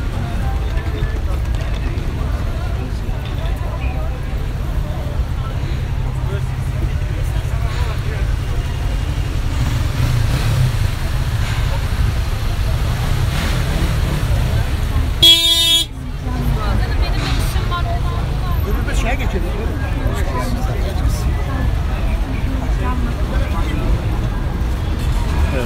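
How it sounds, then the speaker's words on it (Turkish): A crowded Istanbul street roars with continuous traffic rumble and the murmur of many people, voices talking throughout, and one sharp car horn blast cutting through about two-thirds of the way in. "Muhteşem bir insan kalabalığı. Araç kalabalığı."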